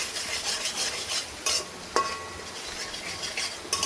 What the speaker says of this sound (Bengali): এটা দিয়ে একটু কষাতে হবে